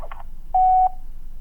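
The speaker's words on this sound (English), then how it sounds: "so you can hear the phone ringing and you can hear the audio when they answer the phone" A phone line on an outbound call gives a few quick dialing tones, then a single clear electronic beep about a third of a second long, all over a faint line hiss.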